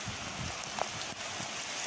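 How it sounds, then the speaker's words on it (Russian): Rain falls steadily in a village setting, a soft, even hiss of drops with no talk. "Нормальный такой дождик пошел прям."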